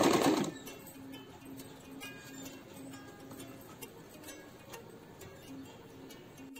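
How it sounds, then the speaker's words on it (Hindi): A sewing machine stitching lace onto a fabric kitchen napkin hanger, a faint steady whirring hum with repeating stitch pulses after a louder handling noise at the start. "यहां से भी डबल सिलाई लगाऊंगी लेस में"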